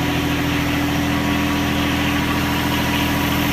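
A loader-bucket machine's engine idles steadily while warming up, a constant close, loud rumble with a droning hum and no change in pace.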